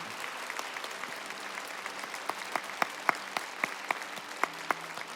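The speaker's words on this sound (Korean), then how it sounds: "네, 박수 한번 보내주시겠습니까?" A church congregation claps for newcomers at a revival festival service, a steady patter of many hands with sharper individual claps standing out, moderately close and without voices.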